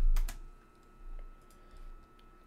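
A few quick keystrokes on a computer keyboard while typing Garry's Mod into a search bar, a close burst of two clicks followed by sparse, fainter taps.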